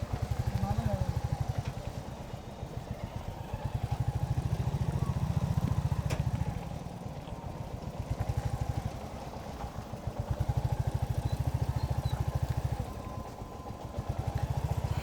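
A motorcycle engine runs steadily through a ride, carrying three people on a rough, crowded road, with a constant low throbbing drone that rises and dips slightly throughout.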